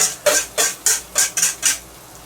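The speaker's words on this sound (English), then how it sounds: "you can use your stir stick to level it all out" Six quick scraping strokes of a stir stick across a pan of tofu, egg and mung bean, evenly spaced and close, with a faint sizzle underneath.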